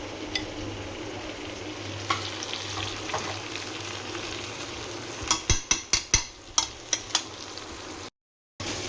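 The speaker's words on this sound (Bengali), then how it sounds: "চিকেনটাতে কষা চলছে, দিয়ে দেবো এখন একটু ঘি" Chicken fries in a pot for biryani as ghee is added, a steady close sizzle with light stirring, then a quick series of sharp metallic spoon taps against the pot before a brief cut to silence.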